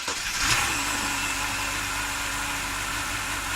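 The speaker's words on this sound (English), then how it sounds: "go ahead and start the motor" A BMW N52 inline-six in an E60/E61 is started and settles into a steady idle after a drive belt replacement. Its even, moderately loud engine hum holds close and unbroken throughout.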